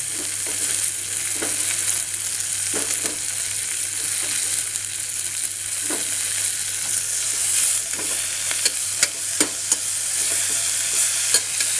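Mint leaves with tomato sautéing in a pan, a constant bright sizzle with scattered spatula scrapes and a few sharp taps toward the end, close and steady with no talk.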